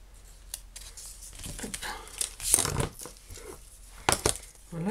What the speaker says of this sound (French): Qu'est-ce que j'aime mes ciseaux.